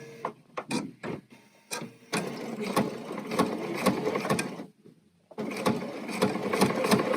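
A sewing machine with a BERNINA presser foot stitches fabric in short bursts: a few quick starts, then a sustained run of rapid clicking stitches, a pause, and another steady run, close and clear.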